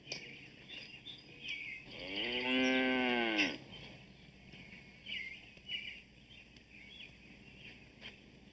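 A single cow gives a long, loud, drawn-out moo in a farm setting, with faint bird chirps scattered around it and no talk.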